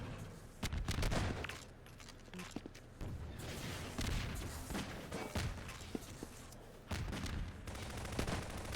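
Rapid gunfire rattles through a 4v4 competitive shooter showmatch, with repeated bursts and single shots layered over a constant dense background of game action.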